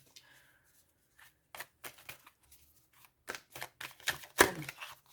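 Tarot cards being shuffled and handled in a series of short papery riffles and slaps, quiet and close, with a sharper flurry near the end.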